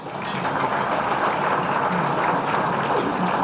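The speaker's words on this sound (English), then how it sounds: "How about a round of applause for the Platinum members?" A crowd at a police appreciation breakfast at a Newport Beach resort claps continuously, a dense, even wash of applause that lasts the whole stretch with no pauses.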